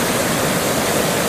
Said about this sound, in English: large force of water going up, and off it goes up the river